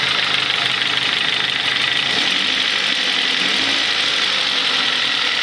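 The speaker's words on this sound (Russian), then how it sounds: "слышны чаканье клапанов и еще какой-то такой стук полуметаллический такой" A Mazda Tribute engine running close up, with rapid valve ticking and a semi-metallic knocking under a steady mechanical hum, no talk.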